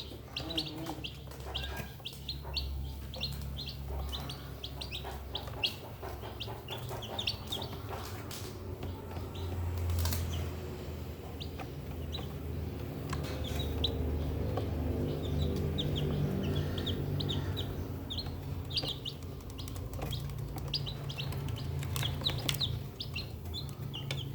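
Newly hatched native village chicks peep and chirp in rapid high bursts throughout, close and fairly faint, over a low background hum with some clucking.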